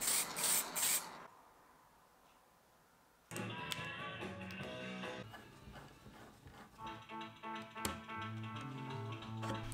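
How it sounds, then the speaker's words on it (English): Gold spray paint hisses from an aerosol can in a short opening burst during furniture refinishing, then fades out before unrelated tapping, clattering and music-like sounds take over. "I had some gold spray paint,"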